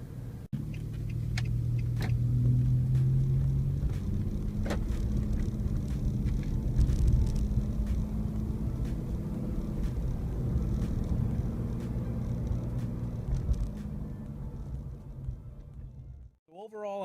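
Nissan Xterra on the road, a steady low engine and tire rumble filling the interior with faint ticks and clicks over it, continuous at an even level before cutting off near the end.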